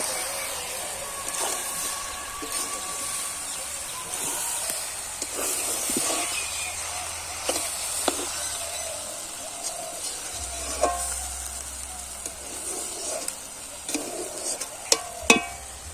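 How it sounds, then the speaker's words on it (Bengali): Winter vegetables frying in a pan with ginger paste, a continuous hissing sizzle with scattered clicks and stirring scrapes, close and fairly even, growing busier toward the end, no voices. "দিয়ে সবজিটা ভালো করে ভেজে নেব।"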